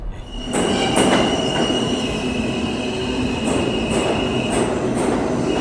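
A New York City subway train rumbles steadily with a constant broadband roar, a sustained high whine and periodic clicking rail joints, loud and close, with no talking.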